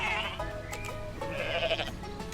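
Goats bleat in Goat Simulator 3, several harmonic, wavering cries running back to back over game background sound, loud and close throughout.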